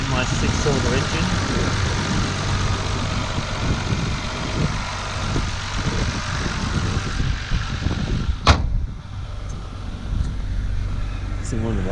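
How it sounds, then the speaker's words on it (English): An inline six-cylinder car engine idles with a steady low rumble on a snowy cold start while people talk nearby, and a brief sharp click cuts through near the end. "So it's got the inline 6-cylinder engine."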